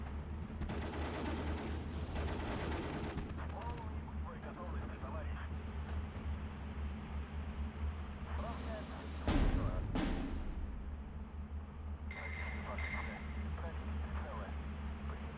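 Mortar rounds and artillery booming in the Soviet campaign of the war strategy game Steel Division 2, a dense continuous rumble with a couple of sharp whooshing impacts partway through, under a talking voice.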